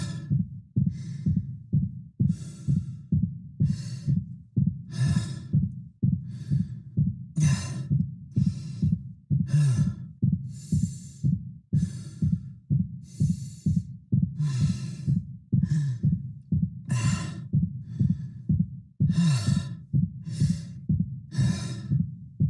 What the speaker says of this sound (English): you'll start to hear fatigued breaths, exerted breaths start to mix in with his regular base breathing rate